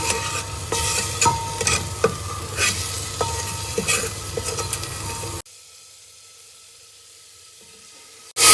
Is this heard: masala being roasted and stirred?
yes